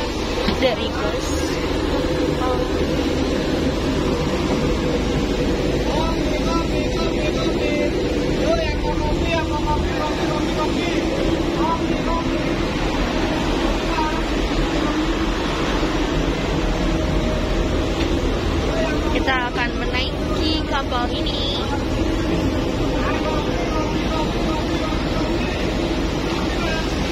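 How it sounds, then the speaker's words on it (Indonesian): Aboard a ferry crossing to Bali, a steady low engine rumble and mechanical hum fills the whole stretch, constant and close, with faint background voices and occasional clatter. "sekian lama nggak naik kapal dan akhirnya sekarang naik kapal."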